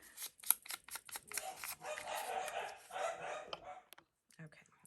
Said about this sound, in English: Trying to let them get their barks out.